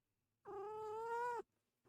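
A single drawn-out cat meow, close and clear, sustained for about a second before stopping, with quiet room surroundings.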